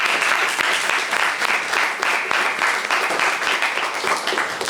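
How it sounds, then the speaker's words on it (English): An audience applauds a discussion panel at a talk on gays and conservatives, with dense continuous clapping that holds at a steady level throughout. "Shall we give them a round of applause?"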